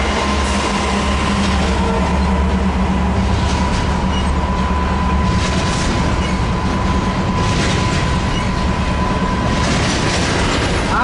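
A freight train led by port stacker cars rolls past at Commerce, a continuous loud rumble with rhythmic wheel clatter and a faint steady whine, no voices.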